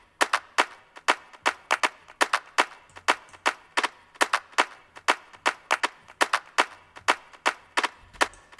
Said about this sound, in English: Because they're different claps, and also some delay on it, which you can hear, right?